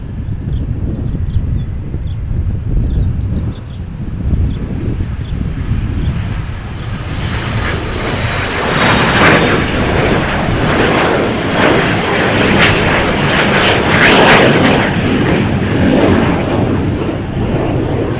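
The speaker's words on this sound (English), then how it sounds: "Grumpy, you're just in time to see the A300 arriving from Louisville for UPS." UPS Airbus A300 jet arriving at Milwaukee Mitchell International Airport from Louisville, a loud, continuous engine roar that builds as it passes, with wind buffeting the microphone.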